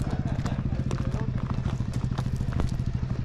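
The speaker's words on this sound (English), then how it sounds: "Wherever there's a view, you get motorbikes." Motorbikes ride in the Sahara desert at an off-road training camp for bikers, with a loud, steady, close engine rumble and a fast, regular pulsing throughout.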